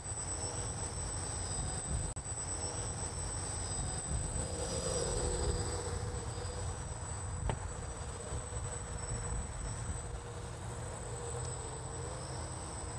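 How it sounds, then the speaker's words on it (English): AeroSky 4-channel quadcopter hovering, a steady high-pitched motor whine held over a broad, even rushing noise for the whole stretch, with no voices. "We'll do a little bit of hovering here so you guys can see really how stable these quadcopters are."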